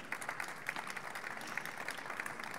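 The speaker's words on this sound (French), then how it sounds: "On peut les applaudir déjà." An audience at a corporate conference applauds at the close of a presentation, a dense, even patter of clapping held at moderate level with no talk.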